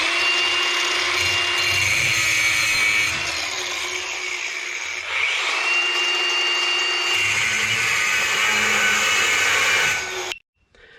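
An angle grinder shaping a cone on a homemade tuning fork, running loud and steady with a high whine for about ten seconds, the pitch dipping briefly midway as the disc loads, then cutting off abruptly at the end.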